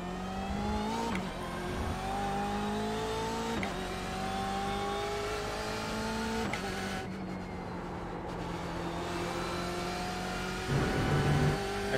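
BMW M8 GTE race car in the iRacing sim, its engine droning steadily throughout with rising and falling pitch as it accelerates and shifts gears, close and continuous with no talk.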